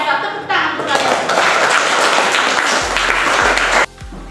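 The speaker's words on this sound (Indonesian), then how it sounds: "Tepuk tangan untuk kalian." A classroom of students claps, dense and lively for about three and a half seconds, then cuts off abruptly, with a few voices mixed in under the clapping.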